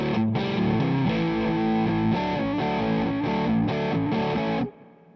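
A PRS SE CHLEO electric guitar on the center and inner neck coils churns out a distorted riff of rhythmic chord stabs, thick and full, close and loud before cutting off sharply near the end.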